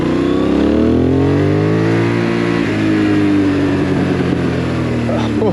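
Benelli 752S naked sports motorcycle accelerating hard in first gear, a loud, close engine with rising revs that dips briefly and climbs again, continuous over wind noise.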